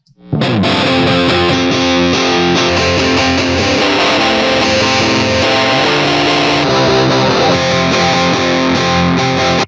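Heavily distorted electric guitar chords ring out loud and sustained through an Avid Eleven MKII cabinet simulator in Pro Tools, played continuously with no voices.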